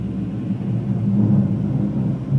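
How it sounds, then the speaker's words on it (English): An airplane passes overhead, heard indoors as a steady low rumble that holds evenly throughout without any other sounds. "Oh, it's an airplane."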